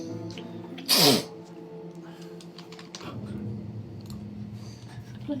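One sharp, loud sneeze bursts out close by, followed by soft clicking and light keyboard-like tapping as people sit around a tabletop roleplaying session.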